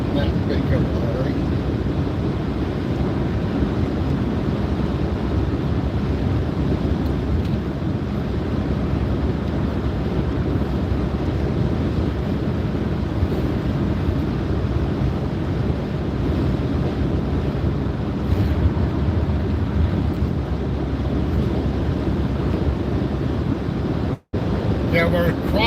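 Wind buffets the microphone in a constant heavy rumble while crossing over Hondo Creek, with rushing water mixed into the steady noise for the whole stretch.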